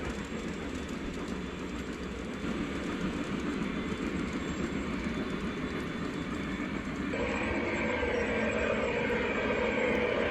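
A continuous rumbling clatter of a model train running along its track, steady and moderately loud, with the rolling noise swelling slightly partway through.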